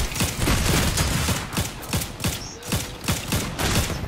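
Rapid gunfire in the video game Fortnite, a dense string of sharp, loud shots cracking in quick succession with a faint mechanical click partway through.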